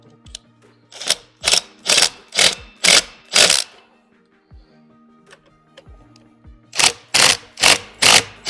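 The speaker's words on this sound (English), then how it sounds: "I'm going to start off by hand first and finish it off with the socket." A ratchet socket tightens an axle nut on a Nami Klima electric scooter with crisp, loud clicking strokes in two bursts of about six each, separated by a quiet pause.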